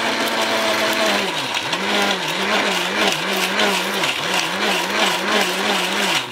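A steady mechanical whir with a pulsing, wavering motor tone runs throughout, like an electric blender grinding, loud and close, with no talking.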